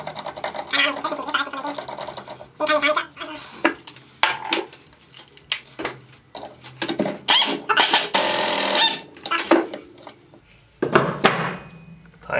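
A puller tool working a part off the shaft of a Zongshen 190cc pit bike engine, close metallic clicks, taps, clanks and scraping in irregular bursts with a few quiet gaps.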